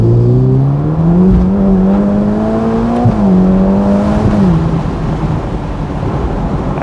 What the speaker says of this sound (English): you do just get a bit more of a note from that V8 with the roof off